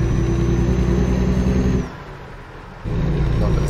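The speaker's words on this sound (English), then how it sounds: "Give it full power, it wants extra revs." A truck engine from the Steele Productions engine pack revs hard at full power in a loud, steady roar. It drops to a lower idle for about a second, then surges back to full revs.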